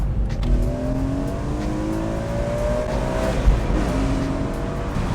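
A BMW E46 M3 convertible accelerates hard on a single-track A road, its engine note climbing through several gear changes under steady road and wind noise, with no talking.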